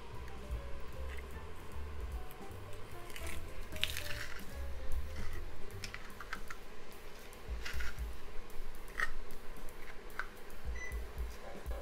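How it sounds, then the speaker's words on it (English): Garlic and diced mushrooms cook in a pan in a camping meal prep, with a soft steady sizzle and a few light scraping stirs, close and fairly quiet, with no speech. "Give that a stir."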